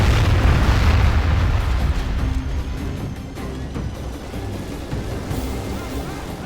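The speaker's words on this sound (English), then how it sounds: "Here's another good hit from the catapult." A catapult projectile strikes and explodes during a huge Medieval II Total War river-crossing battle, heard as a dense, loud rumbling boom inside a continuous roar of combat noise.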